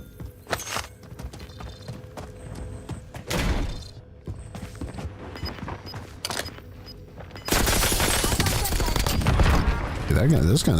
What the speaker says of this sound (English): This gun actually shoots kind of straight, man.